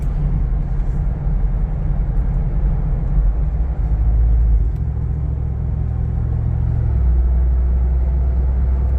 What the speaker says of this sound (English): now we're coming into the corners with the good old Jeep